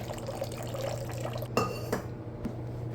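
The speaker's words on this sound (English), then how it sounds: "We're going to add the water. I like lukewarm water usually" Lukewarm water poured from a container into a bowl for seedy sourdough sandwich bread, a soft trickling splash followed by a few light clinks near the end.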